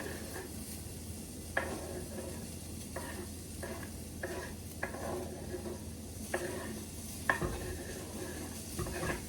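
Onions dumped into a pot and frying on the stove, a steady close sizzle broken by repeated spoon stirs and clanks against the pot, no talk.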